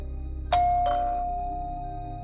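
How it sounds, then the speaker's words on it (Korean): A doorbell at an old ordinary family house rings once, a clear two-tone ding-dong with the second tone lingering and fading slowly. "초인종을 눌렀지"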